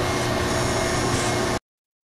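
Steady, loud roar of a vacuum cleaner running indoors on a day spent prepping kittens for neuter surgery. The sound holds even and constant, then cuts off abruptly.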